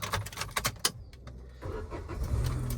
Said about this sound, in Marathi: तर गाडी स्टार्ट करू द्या